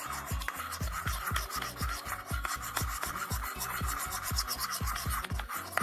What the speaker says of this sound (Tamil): ஸோ இப்போ எல்லாத்தையும் சேர்த்து மிக்ஸ் பண்ணிக்கலாம்.